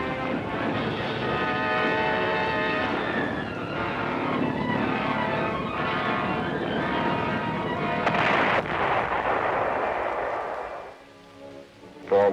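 Anti-aircraft gun batteries defending Antwerp against V-1 flying bombs fire in a dense, continuous roar of overlapping reports and rumble, loud and sustained, easing off near the end.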